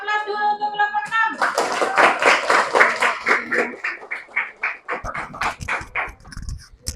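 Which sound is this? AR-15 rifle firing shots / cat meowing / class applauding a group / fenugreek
class applauding a group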